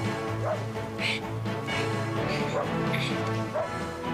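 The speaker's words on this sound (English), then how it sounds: "Stop barking, you stupid dog!" A dog in an animated cartoon gives several short barks and yips at intervals, over a constant background of music and noise.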